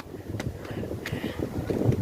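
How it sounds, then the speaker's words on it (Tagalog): Gusty wind at the sea buffets the microphone with a constant low rumble, with a few brief bright bursts on top. "Napakahangin. Ang hangin."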